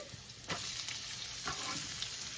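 Onions and ginger frying in a pan for paneer karahi, giving a steady close sizzle with a few sharper stirring scrapes along the way.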